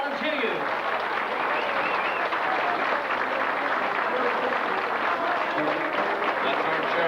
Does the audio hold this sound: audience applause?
yes